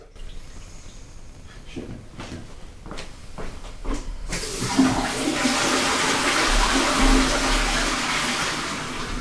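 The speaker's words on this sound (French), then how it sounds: "Et la chasse d'eau, c'est moi qui vais la tirer?" A toilet flush bursts into a loud rush of water midway and keeps roaring and hissing steadily to the end, preceded by a few quieter clicks and knocks.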